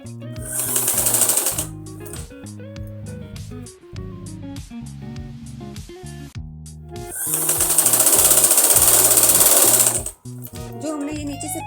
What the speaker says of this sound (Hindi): यहाँ से हमने सिलाई लगानी है आधा इंच एक्स्ट्रा फैब्रिक छोड़ते हुए।